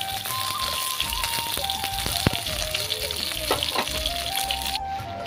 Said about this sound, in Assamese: তাৰ কাৰণে 6 পিচ ভাজিব দিছোঁ